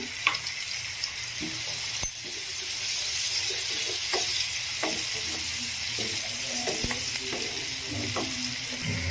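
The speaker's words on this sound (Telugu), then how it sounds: "మంచిగా ఫ్రై చేసుకోవాలి ఈ ఆనియన్ తొందరగా ఫ్రై అవ్వడం కోసం ఇందులోకి కొంచెం పసుపుని యాడ్ చేసుకుంటున్నాను" Chopped onions and green chillies frying with a pinch of turmeric in a pan for a cauliflower tomato curry, a steady close sizzle with occasional stirring clicks and scrapes throughout.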